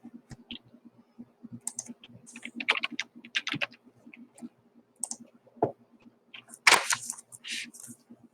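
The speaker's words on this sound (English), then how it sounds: "So I'm typing in the credit now into the post." Computer keyboard typing in irregular bursts of close, crisp key clicks with short pauses, a low steady hum underneath and a few louder taps near the end.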